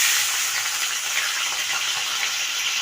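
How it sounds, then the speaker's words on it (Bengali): Broiler chicken lightly frying in hot oil with salt and turmeric, giving a steady, even sizzle that holds at moderate volume without a break and with no talking. "এবার এতে নুন হলুদ মাখিয়ে চিকেনটা একটু হালকা ভেজে নেব"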